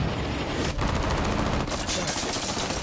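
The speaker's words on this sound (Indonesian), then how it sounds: "Ia memilih kabur dengan cara menembak lengan seorang agen CIA yang saat itu sedang membawa senjata." Gunfire in an action film about a sniper, a quick run of sharp repeated shots crackling densely across a few seconds, fairly loud and with no clear speech.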